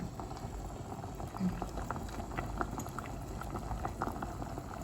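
Fresh wild mushrooms, including bolete-type varieties, simmer in a pot of mushroom curry with a steady, close bubbling and popping that runs throughout at an even level, with no voices over it.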